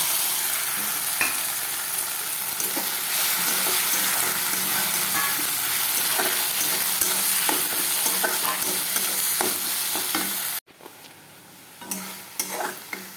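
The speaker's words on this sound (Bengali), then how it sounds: "এই মশলাটা এখন দিয়ে দেবো। আদা বাটা, পেঁয়াজ বাটা, লঙ্কা বাটা।" Ginger, onion and chilli paste fries in a pan with a loud, steady sizzle and repeated stirring scrapes, then drops briefly and resumes more quietly near the end.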